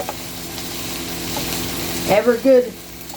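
Food frying in a home skillet, a steady close-up hiss and crackle running throughout, with a voice breaking in briefly near the end.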